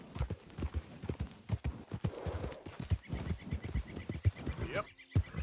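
Horse hooves clip-clopping in the Red Dead Redemption 2 video game, a steady rhythmic trot of close, distinct hoof beats continuing throughout, with a faint neigh near the end.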